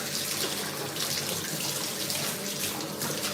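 Hands are washed under a running tap, with a steady stream of water splashing into a sink at close range, continuous and unbroken, with no talking.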